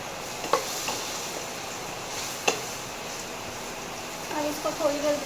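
Potatoes frying and being stirred in a pan with masala, a steady sizzle broken by a few sharp scrapes and clinks of the spoon, close and moderately loud.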